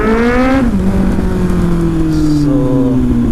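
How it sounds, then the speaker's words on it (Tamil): A Kawasaki Z800 motorcycle with an aftermarket exhaust revving loudly up close, the engine note rising sharply, dropping back, then holding a throaty drone with another climb at the end. "இது வந்துட்டு ஆஃப்டர் மார்க்கெட் எக்ஸாஸ்ட் போட்டிருக்கு"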